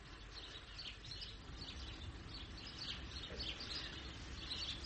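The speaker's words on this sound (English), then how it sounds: "Birds." Birds chirping faintly in the distance over a steady, broad background hiss and low rumble.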